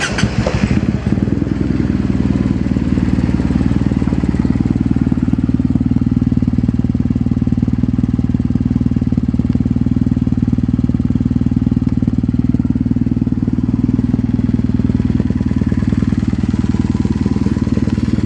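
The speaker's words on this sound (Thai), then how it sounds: "มาฟังเสียงกัน Kawasaki W800 นะครับฟังเสียงกัน" A Kawasaki W800 motorcycle with a modified, cut-and-replaced exhaust tip idling close by, a steady loud low rumble with even mechanical clatter throughout, no talking.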